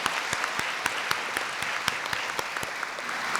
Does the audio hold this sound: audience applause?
yes